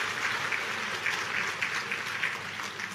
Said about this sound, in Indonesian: Tepuk tangan untuk para pastor misionaris itu.